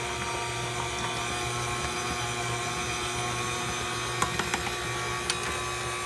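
An electric mixer beats powdered-sugar and vanilla cake frosting, a steady high-pitched motor whine with layered harmonics running continuously, close and alone with a few faint clicks near the end.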